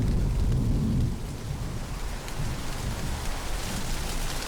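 Steady rain hisses on surfaces as low thunder rumbles, loudest at the start and then settling into a continuous dull roar, heard alone with no talking.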